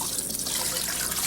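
Measured cold water pours steadily into a container for a duck marinade, a continuous close splashing trickle with no pauses and no talking.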